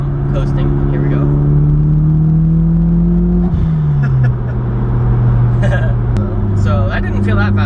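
A 390whp turbocharged Mitsubishi Lancer Evolution X pulls hard in fourth gear from around 4,000 to 5,000 RPM, a loud, steady engine drone rising in pitch inside the cabin, with a person talking over it.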